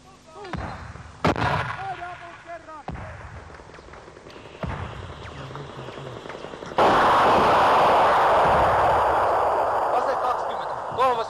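Several sharp, booming 81 mm mortar rounds fire from a Tampella Defence weapon, the reports spaced unevenly amid shouted field talk. The final blast stays loud, with a long rumbling tail.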